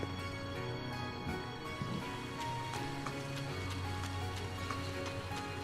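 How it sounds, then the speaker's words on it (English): Steady, even rainfall from the video game Trails of Cold Steel, a continuous hiss of drops with sustained tones layered beneath it and no pause throughout. "It's raining, man."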